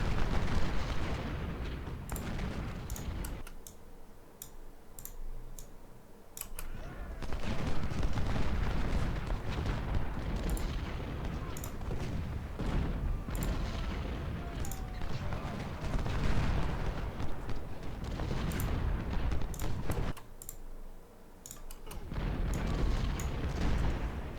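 Sustained battlefield din of cannon artillery and massed musket volleys in a Union Civil War fight at Fort Stevens in Ultimate General Civil War, with continuous rumbling booms and sharp crackling shots, loud and dense for most of the stretch, easing briefly twice.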